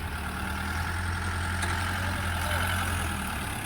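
A tractor engine idles steadily and loud, a constant low rumble with a mechanical drone that holds unchanged from start to finish.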